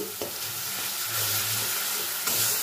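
Onion and garlic frying with salt and turmeric for a rohu fish curry-leaf dish, a steady close sizzle with scraping stirs of a spatula in the pan, no voices over it.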